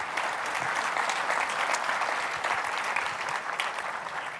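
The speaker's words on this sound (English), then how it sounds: "let's just give him a round of applause" Conference audience applauding a mentor before a software testing talk, steady dense clapping filling the room throughout, loud and continuous with no speech.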